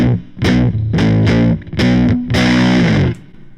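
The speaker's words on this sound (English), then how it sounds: "not much high-end sound on this hard-gated fuzz" Hard-gated fuzz guitar with an octave up and octave down generator, played in short, choppy bursts that cut off abruptly into silence, thick and dark with little top end, loud and alone.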